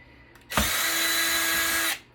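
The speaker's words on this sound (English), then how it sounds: "I actually think my drill bit might be getting" A power drill with a worn bit whirs loudly in one continuous burst of about one and a half seconds while computers are being scrapped, starting and stopping abruptly against a quiet background.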